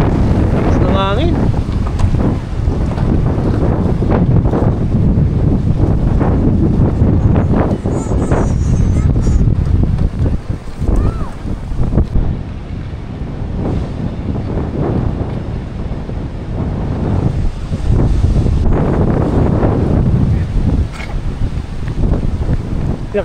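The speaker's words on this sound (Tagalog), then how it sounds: "Lakas ng hangin." Strong wind roars and buffets the microphone continuously out on the water in Hong Kong, with a boat nearby and faint voices beneath the steady rumble.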